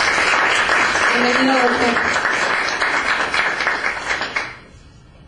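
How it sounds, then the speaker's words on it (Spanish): Audience applause at an evening Catholic charismatic gathering in the Toluca diocese, a broad sustained clatter of clapping under a man's brief spoken welcome, fading out near the end. "Pues a quien pido un aplauso, por favor."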